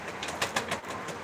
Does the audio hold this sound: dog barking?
no